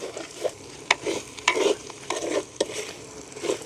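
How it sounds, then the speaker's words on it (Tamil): Curry frying in a pan is stirred with sharp, irregular scrapes and knocks of a spoon over a soft sizzle. The strokes are close and moderately loud, and no one speaks. "இந்த கறிக்கு தேவையான அளவு உப்பு சேர்ப்பேன் அதே நல்ல வடிவாக கலந்து விடுவோம்"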